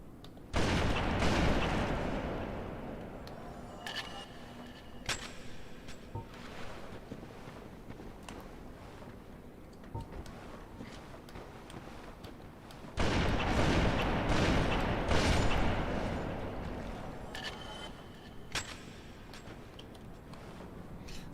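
Sniper rifle shots in a modded Dark Souls battle, several sharp reports spread across the stretch with heavy rumbling booms and sustained roar, loudest in two thick bursts at the start and middle.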